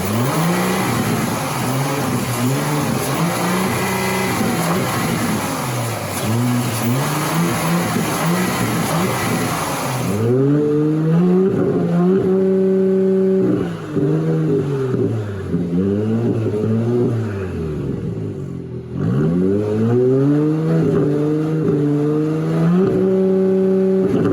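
A 2020 Porsche Macan V6 engine accelerates hard through repeated gear changes, each pull rising in pitch, loud and sustained from inside the car.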